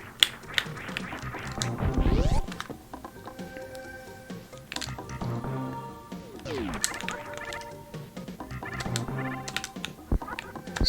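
Computer keyboard keys click in quick scattered bursts while someone splits a Super Metroid speedrun, the taps sitting under the game's music and effects at moderate loudness.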